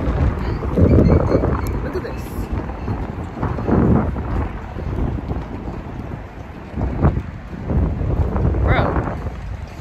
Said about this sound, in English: I hope I'm not talking for no reason because this wind is blowing over me